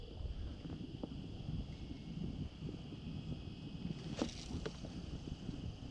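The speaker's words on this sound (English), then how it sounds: "now see that wind just picked up on us a little bit" Wind blowing over open water during kayak fishing for bass, a steady low rumble of buffeting against the microphone with faint splashes and knocks, no talking.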